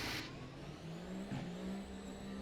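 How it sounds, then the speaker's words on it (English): Formula race car engine starting up in the sim racing game rFactor 2, a faint low droning idle with a short rising rev in the middle, alone and steady. "Now that starting engine noise probably needs to be fixed, at least to my personal liking."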